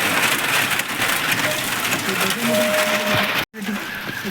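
Steady rain patters loudly on nearby surfaces, with a faint tone and a brief dropout near the end.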